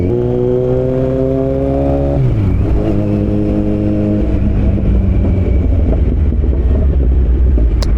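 Kawasaki Z900 motorcycle fitted with an Akrapovic full-system exhaust, revving loudly up close with rising and falling engine tones and a steady heavy rumble.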